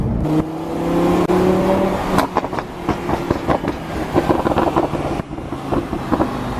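A Lamborghini Huracan's engine and exhaust are heard close up: a steady droning idle, then sharp revs with crackles and pops from the exhaust.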